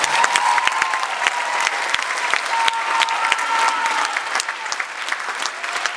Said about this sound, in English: Another round of applause, please, for the BC.